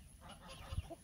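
Chicks exploring a large chicken coop give a brief, close cluster of fowl calls and soft peeps over a low rustle, rising to a short sharper burst near the end.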